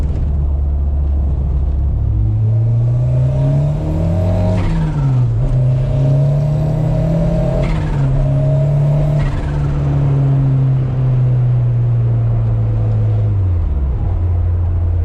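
A Ford MK2 Escort with a rebuilt Type 9 gearbox and new clutch, heard from inside as the engine drones loudly, climbs in revs, dips at each shift through the gears, then rises again and settles, with a steady rumble throughout.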